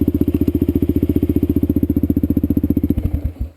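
A Kawasaki KLR650 single-cylinder engine thumps close and loud in a fast, even pulsing rhythm, then stutters and fades as it winds down near the end.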